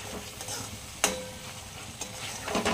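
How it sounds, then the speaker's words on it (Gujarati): Capsicum and onions sauté in a pan for pav bhaji with a continuous moderate sizzle. Sharp spatula scrapes and clicks land at irregular intervals. "તો જે પેપ્સિકમ મરચું આપણે લીધું હતું એ લઈ લેશું। એને સાંતળી લેવાનું છે આની જોડે।"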